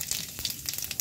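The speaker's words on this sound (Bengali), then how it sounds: "এবার কড়ায় তেল দিয়েছি, তেল গরম হয়ে গেছে, তার মধ্যে দিয়ে দিলাম জিরে" Cumin seeds crackle and sizzle in hot oil in a wok, a brief, close, steady hiss with tiny popping bursts.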